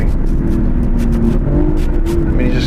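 A 5-year-old Aston Martin V12 S engine rumbling as it downshifts, a deep steady low growl close by with slight rises in pitch, no talking.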